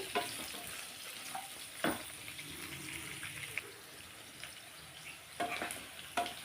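Bottle gourd pieces frying in a pan, a faint continuous sizzle broken by occasional soft stirring scrapes, heard up close.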